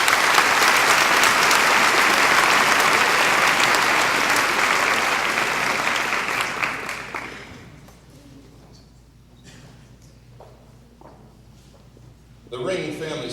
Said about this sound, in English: please join me in a round of applause for this honoring really quickly